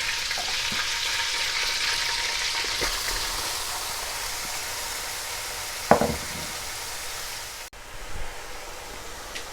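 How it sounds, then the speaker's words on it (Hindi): Grated carrots fry in melted butter with cardamom in a kadhai, a steady close sizzle with soft stirring scrapes and a brief louder clatter partway through. "कढ़ाई में मैंने बटर डाल के इसको मेल्ट कर लिया है और अब हम इसमें इलायची डाल देंगे। अब हम इसमें गाजरें डाल लेते हैं।"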